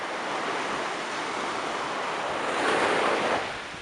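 Ocean waves wash onto a beach as a continuous broad rushing roar with a swelling surge near the end, mixed with some wind noise and no talking.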